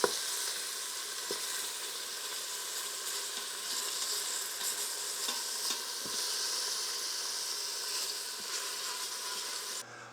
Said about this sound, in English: So you just put it in and keep it stirring till you get it browned.